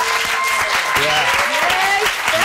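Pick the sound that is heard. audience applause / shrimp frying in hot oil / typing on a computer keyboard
audience applause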